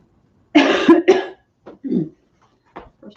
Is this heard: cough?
yes